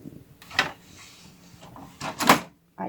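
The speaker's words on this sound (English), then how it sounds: "put these in and close the drawer" Paper drawer of a Brother ScanNcut cutting machine is shut, giving two short, close plastic clunks about two seconds apart in a quiet room.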